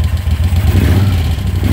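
On a freezing morning a choke-started motorcycle idles close by, its deep steady rumble running unbroken with slight fluctuations and no speech.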